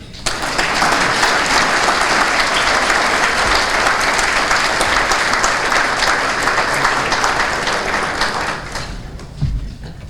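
A crowd at a small-business award event gives loud, sustained applause as a speaker is welcomed, dense clapping that holds steady and then tapers off at the end.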